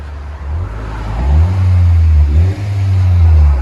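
Honda Accord 2.0L turbo with straight pipes, revved hard so the deep exhaust note climbs and holds, dips briefly, then rises again, loud and close.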